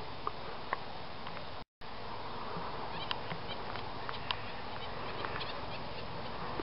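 Bees buzz around plum blossom on a spring afternoon, a faint continuous hum with occasional bird chirps over it, briefly cut by a short gap of silence.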